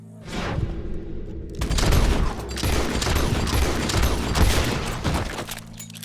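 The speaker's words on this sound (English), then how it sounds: "He shot the thing!" Gunfire in the Red Dead Redemption 2 video game: a dense, loud volley of overlapping shots and booms rolls on for several seconds, with no talk over it.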